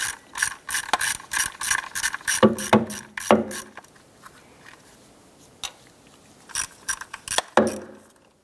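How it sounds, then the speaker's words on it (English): A ratchet with an 8mm socket and extension clicks in quick rhythmic bursts while removing nuts on a 2005-2007 Ford Five Hundred, with pauses between runs and a few sharper metallic knocks near the end. "We can use our 8mm socket extension and ratchet. Remove those two nuts."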